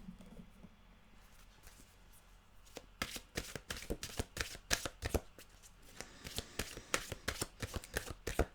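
A deck of mantra cards being shuffled close up: quiet room tone at first, then a quick run of sharp, crisp card riffles and slaps in an irregular rhythm, with no talking.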